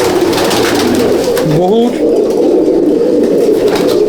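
Andhra pigeons coo in a loft, a rolling throaty call that swells in the middle, while someone talks loudly over it.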